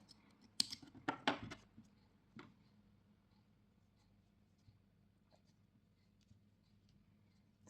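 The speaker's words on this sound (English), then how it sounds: "Chain 1, cut the yarn." Scissors snip through crochet yarn in a quick cluster of sharp cuts near the start, followed by one more snip, then near silence with faint handling noise.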